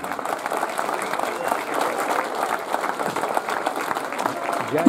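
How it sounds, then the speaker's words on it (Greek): Applause for Giannis from the crowd at a village honorary evening in Kefalovrysi, Viannos, a steady wash of clapping lasting throughout, moderately loud with faint voices mixed in. "Δυνατό χειροκρότημα για τον Γιάννη."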